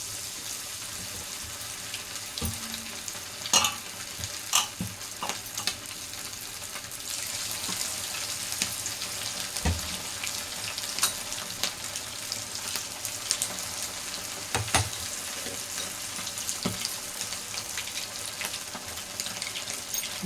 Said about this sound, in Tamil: கருவேப்பிலை கொஞ்சம் போட்டுக்கோங்க. அதில் போட்டுட்டு லெக் பீஸ் சேர்த்து அப்படியே இதில் போட்டுடலாம்.